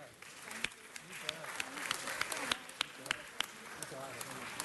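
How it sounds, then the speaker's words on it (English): A round of applause from a crowd at a city council meeting, scattered sharp claps over a steady clatter, with voices talking over it. "It's one more round of applause."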